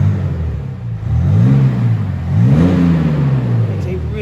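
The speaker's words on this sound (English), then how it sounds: "Really satisfying burble does the M50D." A BMW X5 M50d diesel SUV in sport mode, its engine revved twice in rising and falling sweeps, a deep close burble with a brief idle between the blips.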